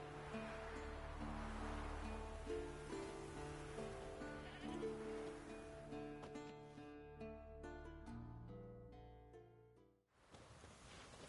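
A goat tied to a stake as forktail bait in The Witcher 3 video game bleats amid a layered game soundscape with sustained tones, fading out near the end.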